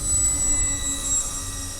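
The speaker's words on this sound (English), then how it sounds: "there's something majestic about a big twin cargo plane just crabbing in so slow" Avios BushMule V2 radio-controlled twin-engine cargo plane flying slowly in to land over snow, a steady whining electric-motor drone with a high tone, continuous and fairly close.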